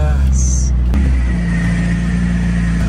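A struggling car engine, close to breaking down, rumbles low and steady near the listener after a brief high squeal and a bump, while faint talk is heard under it.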